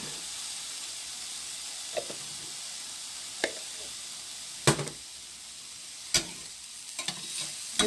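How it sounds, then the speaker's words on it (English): Garlic sizzling in a pan while being stirred: a soft, continuous frying hiss punctuated by a handful of sharp utensil scrapes and clinks at irregular intervals. "So you just keep stirring that until so you can smell that good garlic."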